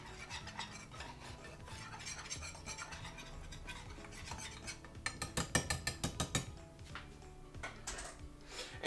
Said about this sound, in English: We're gonna whisk this in.